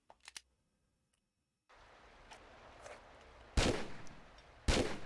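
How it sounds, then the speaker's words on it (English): Gunfire from a heavy gun in the video game Tomb Raider III Remastered: two loud sharp shots about a second apart over a steady background hum, after a few faint clicks. "Can I shoot this thing? Let's do so with a beefier gun"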